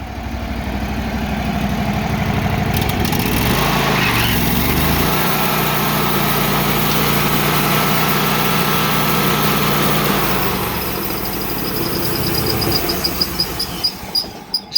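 Kohler 25 hp small engine on an LT15WIDE sawmill runs steadily and loud, its pitch climbing as it revs partway through and holding there, then easing back down toward idle near the end.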